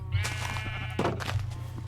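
Minecraft sheep bleat as a game sound effect, a steady wavering call repeated over a continuous low hum, with short louder bursts standing out near the start and again around the middle.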